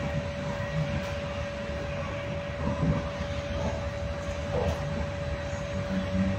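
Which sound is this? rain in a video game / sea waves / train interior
train interior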